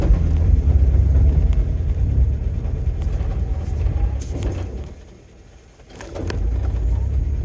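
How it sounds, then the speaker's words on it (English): A 1984 Datsun 4x4 in two-wheel drive rumbles steadily from inside the cab, with faint intermittent clicks and rattles from its loose drivetrain; the drone dips briefly before rising again. "Oh, that drivetrain is so loose. I can hear it click."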